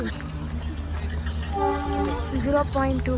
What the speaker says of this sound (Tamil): உங்களுக்கு ட்ரெயின் சவுண்டு கேட்குதுல்ல, அது வந்து மலை மேலே வர ட்ரெயின்.